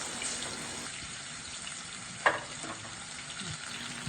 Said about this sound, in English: Pork chops is fried for about 4 to 5 minutes on each side